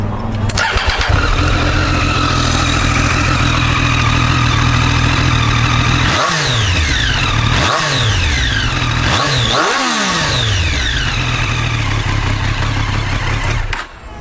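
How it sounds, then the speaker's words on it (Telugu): A 2020 Triumph Street Triple fitted with an Arrow exhaust starts up and idles loudly up close, then is blipped through three or four sharp revs that rise and drop quickly before settling back to idle. "సో చూసారు కదా ఆరో ఎగ్జాస్ట్ సౌండ్ ఎక్సలెంట్ ఉంటుంది బైక్ ఎగ్జాస్ట్ సౌండ్ అయితే."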